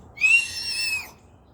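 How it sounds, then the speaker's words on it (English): A single bird call, a clear warbling whistle, sounds for about a second at moderate volume over a quiet background. "That's a bird."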